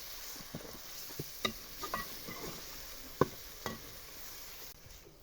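Tomatoes and green chillies frying in a pan with ginger garlic paste for an aloo moongray dish, a soft steady sizzle broken by occasional scrapes and clicks of a stirring spoon, with no one talking.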